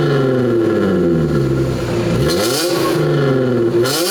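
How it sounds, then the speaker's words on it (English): Audi Q7 SUV engine revving with exhaust valves closed, a loud sustained rise and fall in pitch across two revs, close and muffled, with no talking. "we're about to give it 2 revs. Revs, valves closed"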